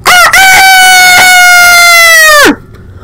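A human voice imitates a rooster's crow, a loud, drawn-out cock-a-doodle-doo with a brief break near the start that holds a steady pitch and then drops away sharply.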